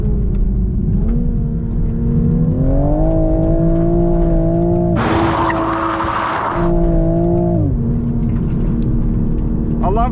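A 2025 Toyota GR Supra's inline-six turbo engine drones steadily from inside the cabin, pitch rising and falling with throttle and gear changes, with a loud rushing whoosh midway through.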